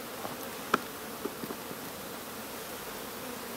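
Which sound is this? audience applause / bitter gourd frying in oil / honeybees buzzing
honeybees buzzing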